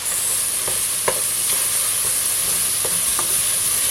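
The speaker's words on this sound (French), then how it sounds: "Donc là, je peux mélanger." Pieces of meat browning in a pot for bouchées à la reine are stirred, sharp scraping clicks of the spoon against the pot over a steady loud sizzle of frying.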